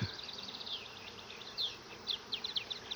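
A honey bee swarm filtering down into a hive gives off a continuous, fairly faint buzzing drone with no voices.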